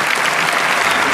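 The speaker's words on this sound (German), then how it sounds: "also der allerfetteste Applaus für alle, die diese Veranstaltung möglich machen" A large conference audience at the CCC bursts into dense, loud, continuous applause, a thick wash of clapping with no break.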